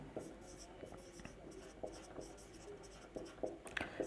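Pen scratching out a handwritten real-analysis proof in short, irregular strokes, close and clear, with a voice talking quietly under parts of it.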